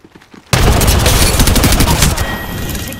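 A grenade blast and sustained gunfire in the Apex Legends battle royale game, a sudden loud boom followed by dense rapid shots and ringing reports, close and intense, continuing to the end.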